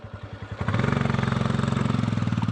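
A heavy motorbike rides on ice in -10°C cold, its engine first chugging in slow separate pulses, then revving up into a fast, steady, close throbbing beat.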